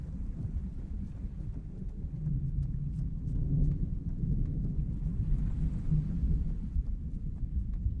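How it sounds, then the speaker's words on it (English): Low, rolling thunder rumbles steadily in the Warlords video game, a deep continuous roar that swells slightly midway, with faint clicks above it and no speech. "God, I love thunder in this game, man."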